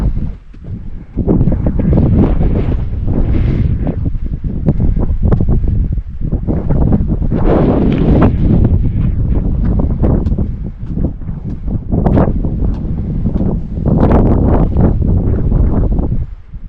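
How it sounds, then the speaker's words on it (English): Strong gusting wind buffets the microphone at a snowy mountain summit on the ramp to the Clingmans Dome observation tower in the Smokies, a loud, continuous roar with surging gusts and rumble throughout. "But it is super windy."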